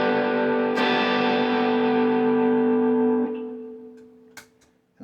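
A guitar chord runs through a Joyo US Dream distortion pedal, a loud, thick, buzzing sustain that rings for about three seconds and then decays, followed by a few faint string and handling noises.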